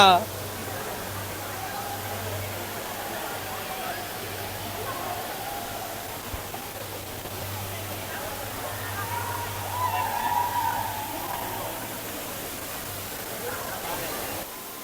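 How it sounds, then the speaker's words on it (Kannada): Steady broadband rush of a man-made waterfall in Singapore, continuous and fairly even, with a faint hum and indistinct crowd murmur mixed in. "ನೋಡಿ ಗೆಳೆಯರೇ ಇದು ಫಾಲ್ಸ್ ಮ್ಯಾನ್ ಮೇಡ್ ಫಾಲ್ಸ್"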